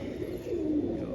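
A female Zeera pigeon coos once, close and clear, a short throaty rolling call.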